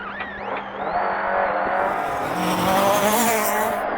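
A historic rally car's engine revs hard as tires skid and squeal through a tight handbrake turn at the Morocco Historic Rally, close and loud, the whine rising and falling.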